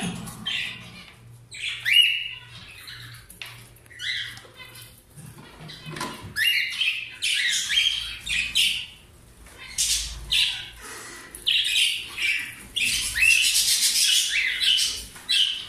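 Pet birds in their enclosure give shrill squawks and rapid chirps in irregular bursts, close and fairly loud, with brief quieter gaps and faint rustling between calls.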